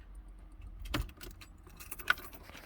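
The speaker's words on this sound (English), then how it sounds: "So let's turn the ignition on." A key clinks and turns in the ignition of a Porsche 924, a soft close jingle and click or two, faint and brief in a quiet cabin.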